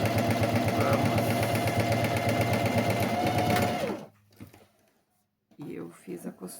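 A sewing machine runs steadily and loudly for about four seconds while topstitching fabric, then stops abruptly, leaving near silence before a few soft handling noises.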